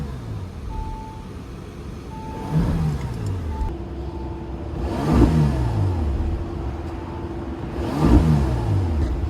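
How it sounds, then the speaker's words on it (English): A 2017 Bentley Bentayga's W12 twin-turbo engine idles, then gets three quick throttle blips, each rising sharply and falling back to a steady idle, heard close with no talking. "Let's do some quick revs."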